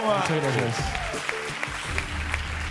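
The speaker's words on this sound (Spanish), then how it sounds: "aplausos fuertes para ellos" Studio audience at a televised singing competition claps loudly and steadily, while a host's voice speaks over the ovation throughout.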